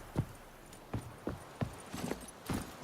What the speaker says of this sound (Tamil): குதிரை அங்கே தான் இருக்கு.